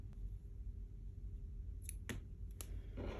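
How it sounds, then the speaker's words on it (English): Embroidery scissors snip cotton floss in a few crisp, close clicks spaced a moment apart, against a quiet room background. "you want to take your embroidery scissors and snip"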